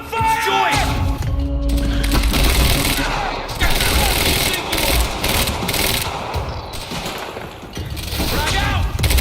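Automatic and rapid gunfire from the Quantum Break video game fills a loud, sustained firefight, with bursts and thuds layered over one another and shouted voices mixed in.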